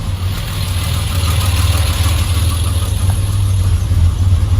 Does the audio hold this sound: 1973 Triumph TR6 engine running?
yes